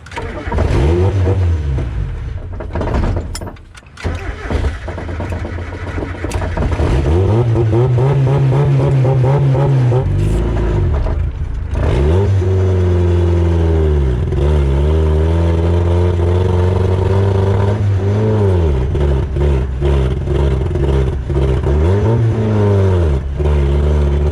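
A car engine fitted with a cheap eBay turbo revs hard and repeatedly, loud and close, the pitch climbing and falling in several long sweeps, with sputtering near the start and no talk.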